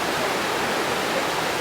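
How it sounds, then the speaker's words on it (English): A secret waterfall on Mt. Baldy sends out a steady, loud broadband rush of falling water, continuous and close, with no voices and no change in level. "this is kind of like a secret waterfall"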